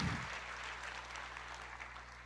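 A congregation at a Pentecost worship service applauds in a soft, continuous wash, faint and somewhat distant, with a low steady hum beneath it.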